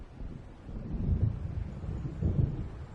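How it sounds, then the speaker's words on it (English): Low distant thunder rolling from an approaching storm in Alan Wake Remastered, two soft rumbling swells over faint wind, no speech. "It seems there's a storm coming."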